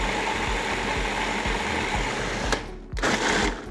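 A blender whirs loudly as it purées sofrito ingredients, its motor chugging in a steady pulsing rhythm before briefly cutting out and starting up again near the end.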